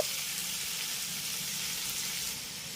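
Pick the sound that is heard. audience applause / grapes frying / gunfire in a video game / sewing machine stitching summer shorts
grapes frying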